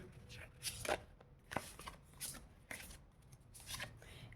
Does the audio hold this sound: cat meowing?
no